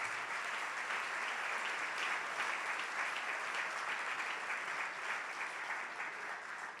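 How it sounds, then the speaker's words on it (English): A gala audience claps steadily through a speech event, dense, even applause filling the room for nearly seven seconds without a break. "I'm glad you all clapped"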